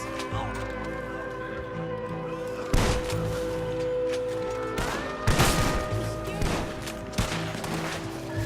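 Gunfire in the video game Red Dead Redemption 2: several sharp shots crack out at irregular moments over steady background music and game sound, with voices talking in between.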